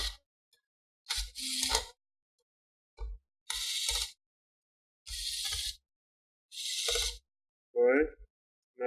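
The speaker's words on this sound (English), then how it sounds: "Remove the 4 screw." Several short bursts of small metallic clicking and scraping come as screws are backed out to free the heatsink of an HP G4 laptop during a teardown, close and quiet, with brief gaps and a faint voice near the end.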